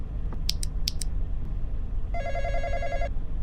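A telephone in a Roblox horror game rings twice in quick bursts, then a steady electronic ring tone sounds, all over a low ambient rumble.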